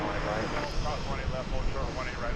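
A oneworld-livery jet airliner taking off at DFW Airport makes a steady, rumbling roar in the background while someone talks over it.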